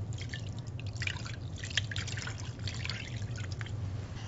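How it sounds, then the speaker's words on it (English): Citrus curry sauce poured over salmon in a pan gives a soft, continuous liquid trickle with faint dripping and splashing, quiet and steady throughout. "And we're going to pour it over the salmon."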